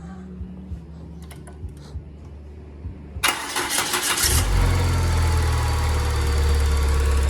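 A 2002 Peugeot 406 starts up. After a few soft clicks, a short burst of cranking catches, and the engine settles into a steady, close idle rumble.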